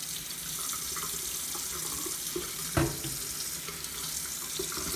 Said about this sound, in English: then you use cold water right from the tap. You can even let it run sometimes.